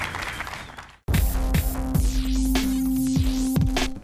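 Appreciative crowd applause at a poker tournament, a dense sustained wash of clapping that bursts in suddenly after quieter background sound and continues steadily.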